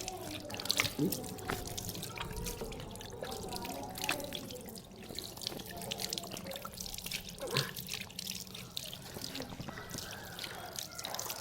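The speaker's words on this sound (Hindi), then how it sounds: "ये दोनों हाथ धुल गए हमारे, जो कि वुज़ू का दूसरा फ़र्ज़ है।" Water trickles and drips steadily from a tap as hands are washed during the Islamic ablution, wudu, with quiet splashes and dribbles throughout and a faint voice underneath.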